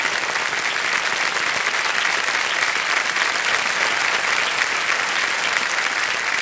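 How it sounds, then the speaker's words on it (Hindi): Studio audience applauding on a television quiz show set, a steady, dense wash of clapping that runs loud and unbroken throughout with no talk over it. "ताली बज जाए"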